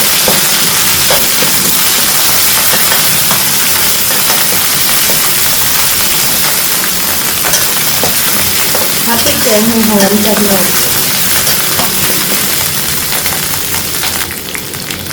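Red curry paste fries in hot oil, giving a loud, dense, continuous sizzle with the scrape of stirring throughout, close up and with no talking.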